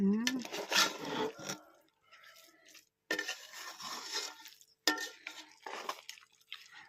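A spoon or ladle stirs village-style chicken biryani rice in a metal pot, with coriander leaves scattered in. Close scraping and clinking come in three separate bursts, and a person talks in between.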